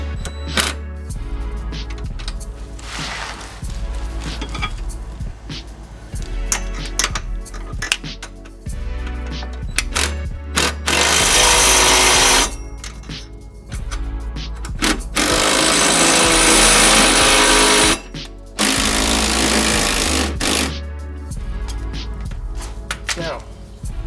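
Power tool tightening bolts on a rear sway bar install, with long bolts and spacers, running in several loud, sustained bursts with pauses between.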